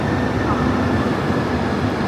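A steady, loud rumble of a Chinese high-speed train running past close by on the Guangzhou to Chongqing line, with rail noise filling the whole stretch and no pauses.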